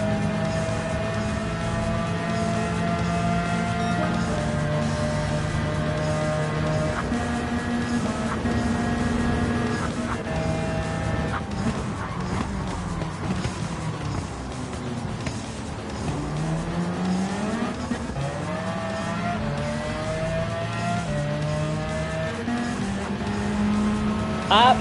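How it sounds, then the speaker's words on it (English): Steady, loud drone of a V12 race car engine in Gran Turismo 7, holding high revs with shifting pitch as gears change and the car accelerates and slows through corners, talk faintly beneath. "V12 race car, by the way"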